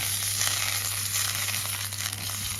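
A piece of butter sizzling in a hot frying pan on a stove, a steady close hiss and crackle that continues unbroken throughout.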